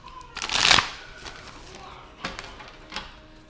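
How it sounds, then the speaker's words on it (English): A quick riffle of tarot cards being shuffled close by, followed by a couple of softer card taps. "We're going to start off with 3 shuffles"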